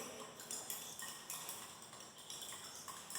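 A spoon stirring a mixture of salt and copper sulfate in a small container, giving quick, faint repeated clinks and scrapes in an even rhythm.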